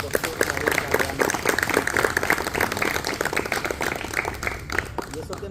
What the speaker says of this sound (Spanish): Recibamos con un fuerte y caluroso aplauso